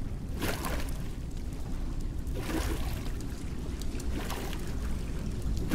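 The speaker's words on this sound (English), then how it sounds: "Creepy dark water." Dark water sloshes in Bramble: The Mountain King, a continuous low wash with a few swelling surges, fairly loud and close, with no voices.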